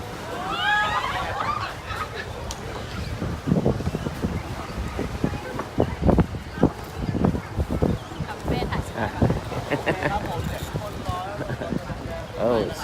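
Steady wind buffets the microphone with a low rumble, while people talk loudly nearby throughout, near a speedboat at Samae San, Thailand.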